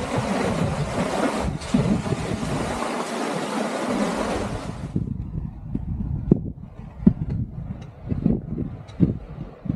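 A fast, swollen river rushes down toward the sea beside a coastal path, a loud broadband roar with wind buffeting the microphone; the rush cuts off abruptly midway, leaving quieter scattered rustles and knocks.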